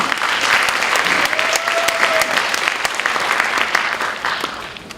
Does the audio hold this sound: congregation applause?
yes